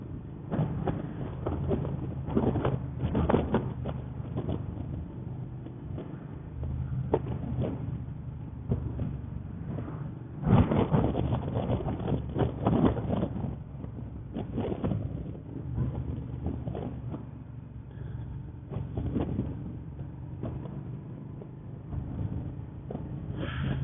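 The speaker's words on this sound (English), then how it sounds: "That wind is incredibly strong and very cold." A Suzuki SV650 motorcycle rides through strong, cold wind, with heavy wind buffeting against the microphone over a low engine drone, surging in loud gusts for the whole stretch.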